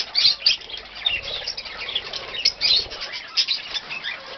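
Birds being fed flap their wings in bursts of fluttering mixed with chirps and squawks, close and uneven, rising and falling throughout without talk.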